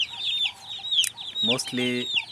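Chickens inside a village home cluck and chirp close by in short, busy bursts, with a mother hen's deeper clucks and higher chick peeps overlapping.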